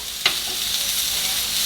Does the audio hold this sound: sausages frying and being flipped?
yes